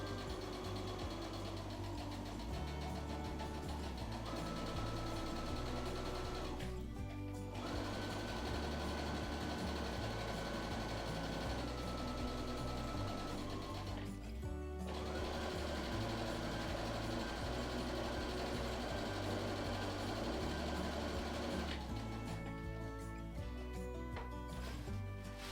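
A sewing machine runs in long steady stretches stitching linen an eighth of an inch from the edge, a continuous low mechanical whir broken by brief pauses, close but quiet.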